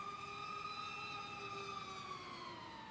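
Quadmula F5 FPV racing quadcopter flying freestyle, its motors giving a steady high whine with harmonics that slowly fall in pitch, heard faintly from a distance with no talk.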